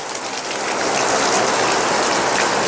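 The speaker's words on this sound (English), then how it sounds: "Nice little rainstorm going on here." Dense, steady patter of simulated rain drumming on the roof of a TideWe Spacious 270 hunting blind overhead, loud and continuous with no voices.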